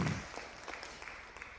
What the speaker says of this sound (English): I would like to ask you in the floor to give a round of applause